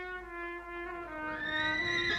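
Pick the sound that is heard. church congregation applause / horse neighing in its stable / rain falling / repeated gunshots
horse neighing in its stable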